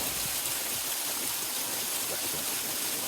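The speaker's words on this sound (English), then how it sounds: "A little waterfall." A small waterfall and stream flowing near the deserted medieval village of Wharram Percy in North Yorkshire, producing a steady, close, broadband rush of water with no voices.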